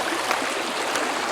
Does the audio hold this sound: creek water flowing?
yes